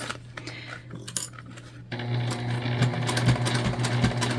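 A sewing machine stitching thick fluffy fabric with batting for a bag, starting with scattered clinks and then settling into a steady, close mechanical whir with a low hum.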